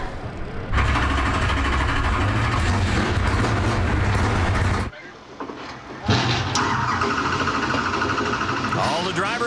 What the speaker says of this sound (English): drivers getting the thumbs up to crank over those big engines as the Mopar Dodge Avenger Ranger fires to life